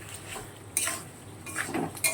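Metal utensil scraping and clinking against a pan while a vegetable curry of potato and taro stem is stirred and sautéed on low gas, a few distinct clatters over a quiet background.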